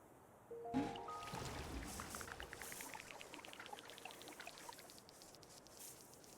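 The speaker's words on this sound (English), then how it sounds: "Pumps water to fill dry riverbeds." A water pump in the game Terra Nil sends water into dry riverbeds, a faint steady pouring and trickling stream that sets in after a short quiet start and keeps flowing alone.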